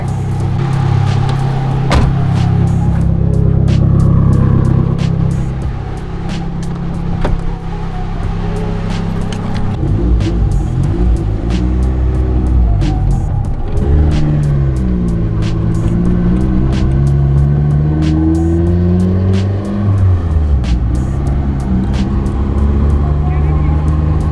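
A Nissan 240SX idles and then drives off, its engine note rising and falling through several accelerations from inside the car, with door and interior clicks early on and people talking over it.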